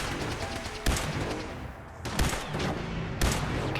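Gunfire in Fallout 4 comes in three loud, close bursts of rapid shots separated by short pauses over a steady game background.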